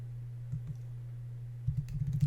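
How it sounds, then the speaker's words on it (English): Keyboard typing of commands for King's Quest IV, a few isolated key clicks early on, then a quick run of keystrokes near the end over a steady low electrical hum. "typing in the look"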